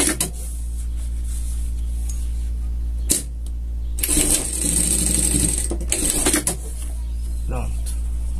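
An electric sewing machine stitches a seam on a denim jacket in a few rapid mechanical whirring bursts over a steady low motor hum, loud and close, while a voice talks at times.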